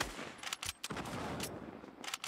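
Rapid hunting rifle shots ring out in a Fortnite match, several sharp cracks in quick succession with short pauses between bursts, loud and close with no talking.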